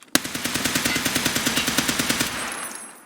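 A .308 rifle in Escape from Tarkov fires M62 rounds in a rapid automatic burst of about twenty evenly spaced loud shots, then the sound cuts off and its echo tails away.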